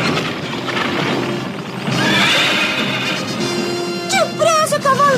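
The cartoon fire horse Wildfire lets out a shrill, wavering whinny near the end, preceded by hoof-like clatter and dramatic background music.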